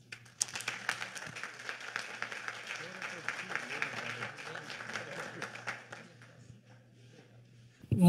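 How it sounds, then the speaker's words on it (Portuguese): Sustained applause from a crowd, dense and steady for several seconds, then fading out into quiet near the end. "um grande aplauso"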